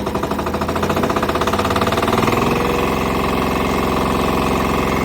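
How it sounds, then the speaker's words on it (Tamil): VST Shakti 9HP power tiller engine cranking and catching, then running with a loud, close, rapid rhythmic single-cylinder knock that steadies into a continuous idle. "ஃபஸ்ட்டு ஆன் பண்ணிட்டு மறுபடியும் போட்டிங்கன்னா கிராங்க் பண்ணிங்கன்னா வண்டி ஆன் ஆகிடும்."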